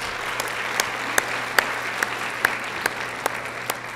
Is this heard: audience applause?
yes